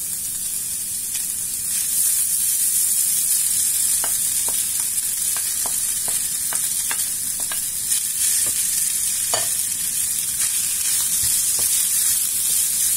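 Parsley and vermicelli sizzling in a pan, a constant bright frying hiss with light intermittent taps and scrapes of a utensil as they are stirred, with no one talking.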